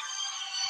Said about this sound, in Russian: Это не мой телефон, а телефон племянника, поэтому надо было ответить.